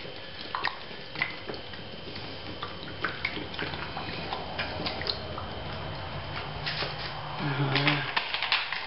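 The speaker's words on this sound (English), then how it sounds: "Splash it in a bit, just get a bit more oxygen in there." Cooled water splashes in to top up a yeast brew to about 10 litres, a steady pouring and sloshing with scattered ticks and knocks that grows a little fuller near the end.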